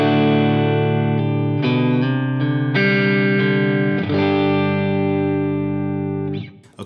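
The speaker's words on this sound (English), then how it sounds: "And this would be in the middle position, like with a humbucker and a single neck." Electric guitar with a clean tone from a Line 6 Helix, middle pickup position blending humbucker and single neck coil, with a short hall reverb: sustained strummed chords ringing out one after another, loud and alone, decaying at the end.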